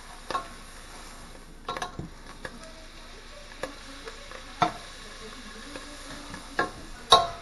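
Butter in a hot pan, cooking for Philly cheesesteak-style sloppy joes, gives off sparse, scattered pops and crackles over a quiet background, with a few sharper spits near the end.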